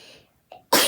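A single short sneeze bursts out sharply at the end after a brief quiet intake of breath, close and loud.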